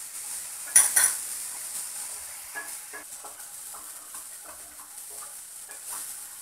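A spoon stirs a fried tomato and onion masala with lemon juice in a pan, with a couple of sharp clinks against the pot early on, then soft scraping and a quiet steady sizzle, close and moderately loud.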